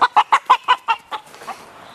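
Backyard chickens let out a quick run of about seven rhythmic clucks, close and clear, that taper into softer, fading calls.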